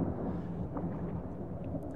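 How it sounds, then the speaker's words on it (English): Thunder rolling during a storm in the Subsistence survival game, a steady low rumble of moderate loudness that carries throughout with no clear breaks. "Lightning, scary."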